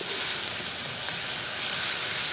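Thai green curry paste frying in oil, a continuous close hiss and sizzle that stays even and unbroken, with no voices.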